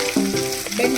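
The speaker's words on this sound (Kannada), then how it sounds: "ನಾವು ತಗೊಂಡಿರೋ ಬೆಂಡೆಕಾಯಿನ ಸೇರಿಸ್ಕೊಳ್ಳೋಣ" Okra frying in hot oil in a pan, a steady close hissing sizzle throughout the brief moment.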